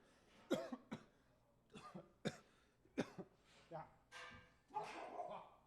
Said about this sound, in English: The coughing is part of the poem.